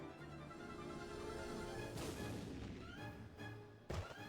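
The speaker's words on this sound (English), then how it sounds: "That fucking noise is just like a shotgun cannon going off" A deep blast like a shotgun cannon going off, an anime sound effect heard as a sudden heavy burst near four seconds after a stretch of steady background music and effects.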